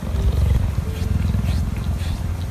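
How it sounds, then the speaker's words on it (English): A cheetah's deep, continuous rumbling purr, rhythmic and close, carrying steadily from start to finish. "Listen to the cheetah's purr."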